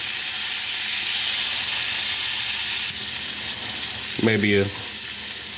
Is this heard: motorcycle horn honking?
no